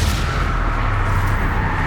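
A spell blast from Confringo cast in a Hogwarts video game, a sustained loud booming roar with heavy low rumble that fills the whole moment, close and without any voice.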